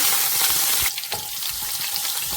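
Garlic sizzling in hot oil while a tomato rasam tempering is made, a loud steady hiss that drops a little partway through, with stirring and no voices.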